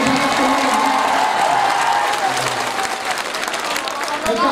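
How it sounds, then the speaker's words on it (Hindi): Sustained audience applause at an Urdu poetry mushaira in Adilabad, Telangana, a dense, steady clapping from a large crowd filling the whole stretch, loud and close with a few cheers mixed in. "यहाँ से लगाकर वहां तक सारे लोग एक बार ताली बजा करके हुक्म देंगे"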